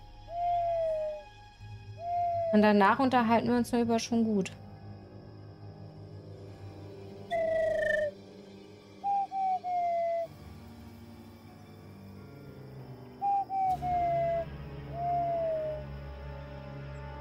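Eagle owl in the game Harveys neue Augen giving several short hooting calls spaced across the scene, over a low steady background hum and a brief burst of other game sound.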